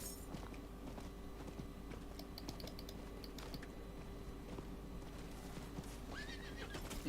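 Horse neighing and hoof clip-clops in the dark fantasy action game Diablo IV, a whinny rising over steady footfalls and keyboard clicks against a constant game ambience.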